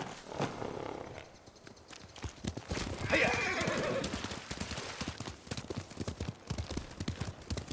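Horses in the video game Ghost of Tsushima clip-clop along at close range in a brisk, uneven run of hoofbeats, and one horse neighs loudly partway through.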